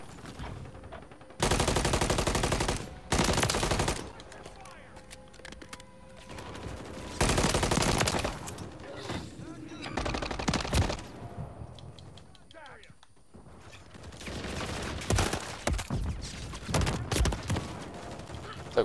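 Bursts of automatic gunfire in Call of Duty MW3 Beta on the Rust map in a Domination match, several loud sustained volleys separated by quieter gaps, with a player talking in between.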